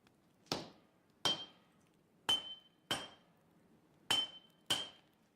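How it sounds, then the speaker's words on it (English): Steel being hammered at a forge during the making of a katana: six sharp metallic clinks with ringing tails, struck in pairs at uneven intervals, close and clear with no talk. "Heat from the forge and constant hammering flatten the pieces into the building blocks of the new weapon under Gassan's watchful and highly trained"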